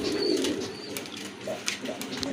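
Pigeons offered for sale coo close by, soft throaty warbling calls repeated a few times, with light rustling and small chirps between.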